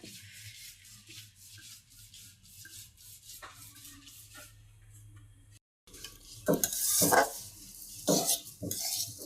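Mung dal frying in oil in a pan over low heat, stirred with a utensil: quiet scraping and sizzling at first, then a short break, followed by louder, close-up scrapes and clatter against the pan.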